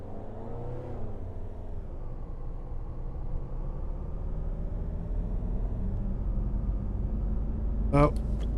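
Cars approach in the CityDriver driving game with a steady engine drone and rising whir that build over several seconds, ending with a short sharp clatter near the end.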